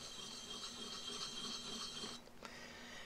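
A plane iron is rubbed flat in small circles across an abrasive surface, giving a steady, close gritty rasp with a faint hiss and slight rhythmic pulsing, and a short lull near the end.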